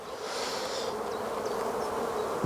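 Honey bees swarm over a frame lifted from a hive, making a dense, steady buzz that hums on without pause, close and moderately loud, with individual bees droning past now and then.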